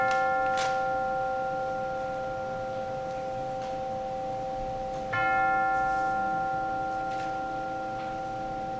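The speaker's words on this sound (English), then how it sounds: "We will now center our hearts and minds with the ringing of the bell." A single bell struck at a Sunday morning worship service in Portland: two clear, ringing strikes about five seconds apart, each leaving a long, slowly fading tone in a quiet room.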